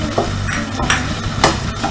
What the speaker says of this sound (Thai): ตอนนี้กะทิเราก็จะแตกมันสวยงามแล้ว เอาพริกแกงไปผัดให้หอมเลยนะครับ